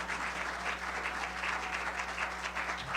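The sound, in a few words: church congregation applauding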